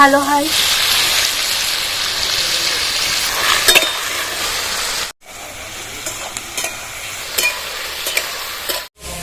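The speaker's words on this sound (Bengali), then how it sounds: "আলু ভাজার সময় একটু লবণ দিয়ে ভাজলে তাড়াতাড়ি সিদ্ধ হয়ে যায়" Cut potatoes frying in mustard oil tempered with black cumin and dried chilli, a dense close sizzle with stirring clatter, briefly cut by two short dropouts.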